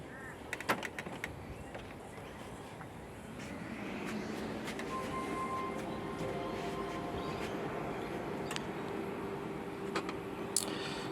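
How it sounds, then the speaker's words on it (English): A Brother colour laser printer powers up after a fuser replacement: a few clicks, then a steady mechanical whir and hum with faint tonal whines as the mechanism runs, close and moderate in level. "we'll now fire the printer up and just make sure it's all in order"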